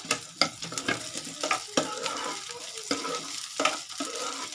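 Boiled potatoes tossed into a pan of frying onions sizzle steadily while a spatula stirs them, giving repeated close scrapes and knocks against the pan.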